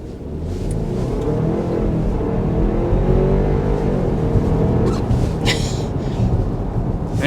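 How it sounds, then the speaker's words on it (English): A 2024 Audi Q5 accelerates hard, its engine rising in a steady, rumbling surge heard from inside the cabin, loud and continuous over road noise. "But first we're going to go ahead and start with a hard acceleration."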